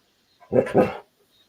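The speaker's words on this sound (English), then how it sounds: "my dog just started going crazy" A dog gives one short burst of excited barking, two quick loud yaps close together, against an otherwise quiet room.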